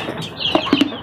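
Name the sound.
pet chickens clucking at feeding time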